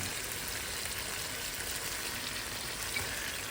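A grape pickle spice mixture with chili, salt and masala in a cooking pan gives off a steady, even sizzle with faint stirring, close and continuous throughout.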